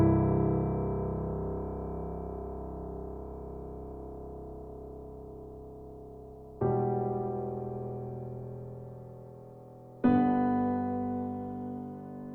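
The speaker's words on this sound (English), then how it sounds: "So then the next thing we have here is the piano," Modern classical style piano with effects, made in Ableton: three sustained chords, each struck and left to ring and decay slowly, the later two arriving after long pauses, with no one talking.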